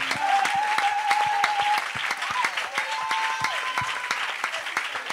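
A church congregation claps together in steady, brisk applause that keeps going throughout, with voices and a sustained sung or called tone rising above the clapping.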